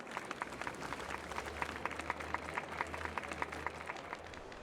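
Crowd applause at the Charmony Festival in the Honkai Star Rail video game, steady dense clapping from a large audience holding at a moderate level throughout, with a low hum underneath.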